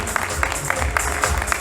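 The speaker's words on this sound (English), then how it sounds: "A big round of applause, ladies and gentlemen" An audience at a gala dinner claps steadily for a guest speaker, a close, continuous round of applause with brisk overlapping hand claps.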